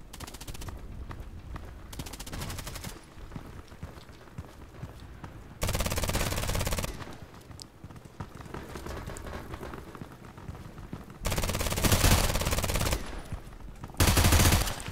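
Automatic weapon fire in the online shooter Contract Wars comes in several sustained loud bursts of rapid shots, separated by quieter stretches of game ambience, with no talking.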